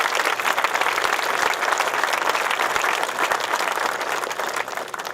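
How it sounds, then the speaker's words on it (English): Loud, dense applause from a large audience honoring law enforcement officers at a college event, steady sustained clapping close to the listener throughout, easing slightly only at the very end. "Let's give them a round of applause and our thanks."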